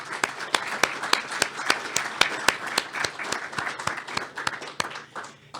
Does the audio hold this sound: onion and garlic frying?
no